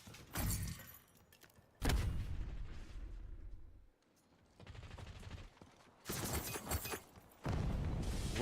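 Explosions from a grenade in the shooter game Black Ops 6 erupt in heavy bursts, several loud booming blasts separated by short lulls of rumbling background noise.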